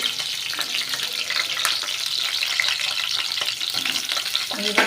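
Thick-cut onions frying in a pan with turmeric and chilli, a loud, steady close sizzle broken by intermittent stirring scrapes.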